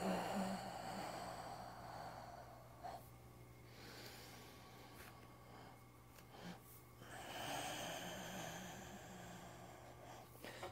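Slow, audible exhalations through the nose during a qigong breathing exercise, soft breathy releases with pauses between them, close to the microphone over a faint steady hum, no speech.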